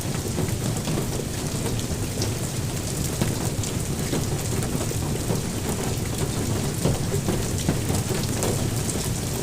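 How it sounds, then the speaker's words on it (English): Heavy hail and rain pound down steadily through a thunderstorm, a dense, loud, unbroken roar of drops and ice on surfaces with low thunder rumbling underneath, and no voices. "the hail is easing out."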